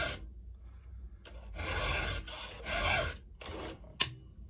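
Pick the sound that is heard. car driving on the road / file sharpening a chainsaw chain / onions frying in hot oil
file sharpening a chainsaw chain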